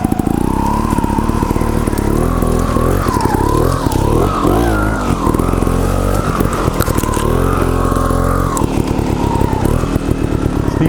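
Gas Gas TXT trials motorcycle revving loud and close, its engine pitch rising and falling continuously with throttle blips as it picks its way over rough ground.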